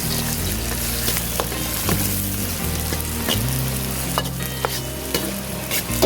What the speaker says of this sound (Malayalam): ഇനി അടുത്തായിട്ട് നമുക്ക് ഉള്ളി ഫ്രൈ ചെയ്തെടുക്കാം